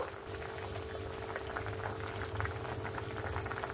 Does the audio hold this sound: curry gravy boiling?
yes